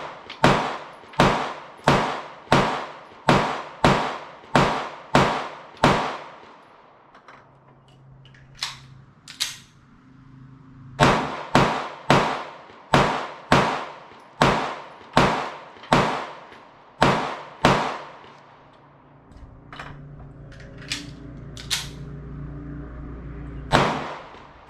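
A Sig Sauer P365 subcompact pistol fired in two strings of roughly eight sharp, loud shots each at a steady pace, separated by a pause filled with faint handling clatter.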